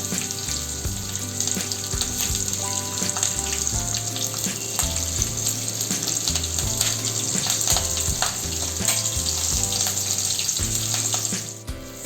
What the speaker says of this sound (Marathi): 2 हिरव्या मिरच्या घालायच्या आणि चांगलं परतून घ्यायचं